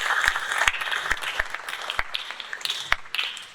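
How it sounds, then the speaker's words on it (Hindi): An audience at a talk on happy and healthy living claps, a loose scatter of individual sharp hand claps over a soft bed of applause, close and fading slightly toward the end. "इनको भी तालियां बजाइए"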